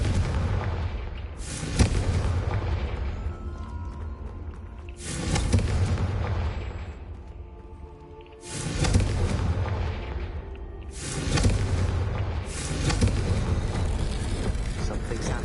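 Several booming spell blasts from the Confringo explosion spell in Hogwarts Legacy, four or five loud bursts spaced a few seconds apart, each a sharp broadband crack that decays into a rumbling tail.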